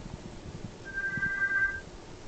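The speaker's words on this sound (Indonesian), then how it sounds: "kita angkat dulu telepon, sepertinya ada penelpon" A telephone rings once with a steady electronic tone during a TV talk show's live call-in segment, moderately loud over low background studio rumble.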